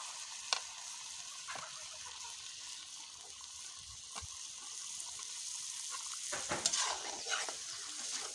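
Duck meat and leftover spices are stirred and fried in a wok, a faint, steady sizzle with sharp scraping clinks of the spatula scattered throughout, busier toward the end.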